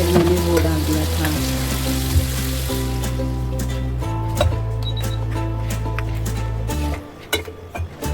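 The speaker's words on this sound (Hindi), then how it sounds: "मेथी अच्छे से भून गई थी और फिर मैंने डाल दिया उसमें टमाटर कटा हुआ" Fenugreek and chopped tomato sizzle loudly in a pan for kadhi, a dense continuous frying hiss over a steady low hum that cuts off near the end, leaving quieter kitchen clatter.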